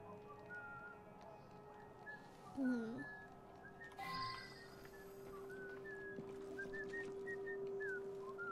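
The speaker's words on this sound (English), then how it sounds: "Why are you whistling?" A game character in Assassin's Creed Unity whistles a meandering tune of short pitched notes over a constant hum, with a louder whistled swoop partway through and background game ambience.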